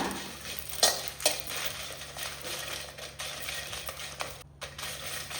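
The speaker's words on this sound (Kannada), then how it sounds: "ಮೆಣಸು ಚೆನ್ನಾಗಿ ಫ್ರೈ ಆಗಬೇಕು ಇದಕ್ಕೆ ಎಣ್ಣೆ ಹಾಕಬೇಕು ಅಂತ ಇಲ್ಲ" Chillies dry-fry in a pan with no oil, a low steady crackle with a few scraping stirs and light metallic knocks close by, fairly quiet and free of speech.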